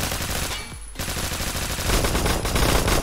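Automatic gunfire from a gun in the Roblox game Phantom Forces, a dense, loud, continuous burst of rapid shots with a short break just before one second, no talking heard.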